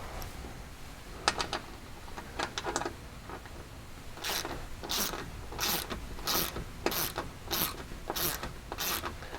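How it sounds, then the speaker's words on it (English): Bolts are ratcheted into the factory threads while a skid plate is fitted to a Polaris RZR Pro XP4 side-by-side: a few early clicks, then a steady run of eight or so sharp, close ratchet bursts at an even pace, with no talking. "now we can tighten all the factory threads."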